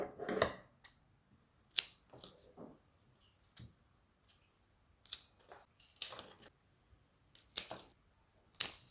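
Scissors snip through a long Scindapsus plant vine in a quiet room, a series of short, sharp, isolated cuts spaced irregularly with silent gaps between them, close and fairly soft.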